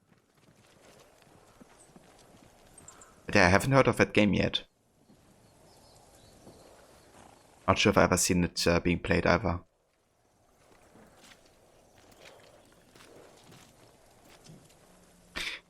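Two bursts of horse hooves clopping at a steady gait in the video game Ghost of Tsushima, each lasting a couple of seconds, between stretches of quiet ambience and a person talking.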